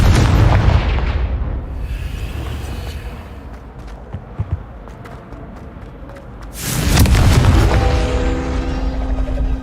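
A Confringo blasting spell bursts loudly in Hogwarts Legacy, one big boom at the start and a second heavy blast near the end, with crackling debris in between.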